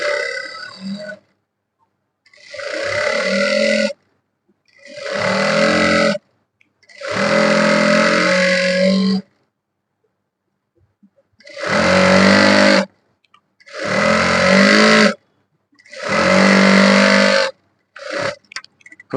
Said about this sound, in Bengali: তার আগে প্রথমে আমরা এখানে একটা সেলাই দিয়ে দেব